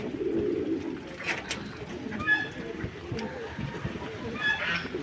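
Fantail pigeons coo in soft, low repeated calls near the microphone, with a few sharper chirps and rustles mixed in during rainy weather.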